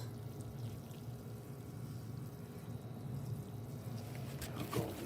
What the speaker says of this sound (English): Give it the fish fertilizer, and then I'm going to water it down